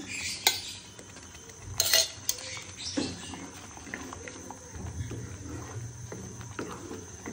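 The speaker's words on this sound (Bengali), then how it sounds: "এবার ভালো করে নেড়ে চেড়ে আরো কিছুক্ষণ রান্না করে নিতে হবে" A mashed fish mixture cooks in a pan as a spoon stirs it, giving several sharp metallic clinks and scrapes early on, then softer shuffling and scraping over a low, quiet background.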